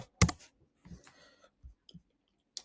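Computer keyboard typing in short bursts: a few sharp, close clicks separated by brief pauses, sparse and irregular, with no voices.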